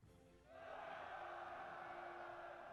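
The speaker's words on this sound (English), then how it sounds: "I hear way more cheering than there are people on the screen." A large crowd in the video game Celestian Tales: Old North cheers and roars continuously, a dense wall of voices rising after a brief quieter start and holding steady at full volume.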